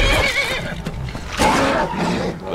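A horse in the Skyrim video game lets out loud, close neighs and whinnies in two bursts, with a faint clop of hooves underneath.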